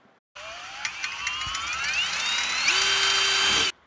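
Power drill boring a hole for a Demon Eye headlight retrofit, a steady whining motor that rises in pitch as the bit works through, loud and close with no talk.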